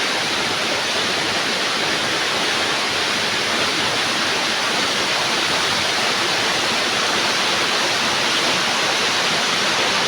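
Steady, dense roar of rushing water from Dikawal Falls, loud and continuous throughout with no voices.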